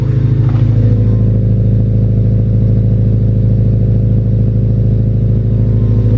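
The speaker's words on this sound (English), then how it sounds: "a cold start with the new exhaust" Honda Civic EP3 cold starting with a new aftermarket exhaust, a loud steady idle drone with a rich low burble right after the starter catches, held close and constant until it cuts off at the end.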